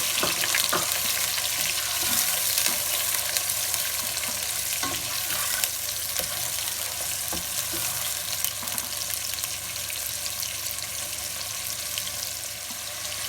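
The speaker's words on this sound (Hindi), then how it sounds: "और इसको 2 से 3 मिनट सौते करेंगे।" Ground onions sauté in a hot pan for a mutton trotters curry, a loud continuous sizzle with faint stirring scrapes running steadily from start to finish.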